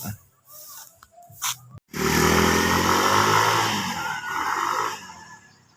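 A Yamaha Mio 125 scooter engine sputters briefly at idle, then revs hard into a loud, sustained high-rpm whine close by, holding for several seconds before the revs drop back.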